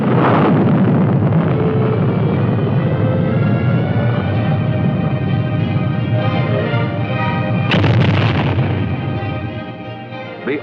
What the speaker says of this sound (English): The Army's Lacrosse, a deadly accurate weapon designed to deliver tremendous firepower in support of ground troops